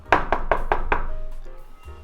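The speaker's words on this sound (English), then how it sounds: "And I knock on your door" Five quick, evenly spaced knocks on a door ring out close and sharp, followed by a brief quiet tail with faint room sound.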